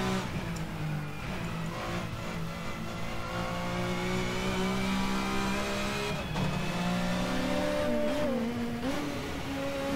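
Touring race car engines, including a Volvo, in a racing video game roar continuously and loudly, several cars close together with pitch climbing and dropping through gear changes, and no voices.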